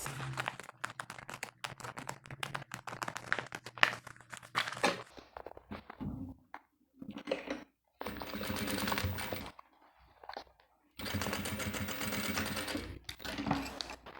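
A sewing machine stitches clear plastic for a pouch, rapid needle chatter in bursts of several seconds broken by brief quiet gaps, close and fairly soft.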